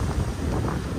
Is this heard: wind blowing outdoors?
yes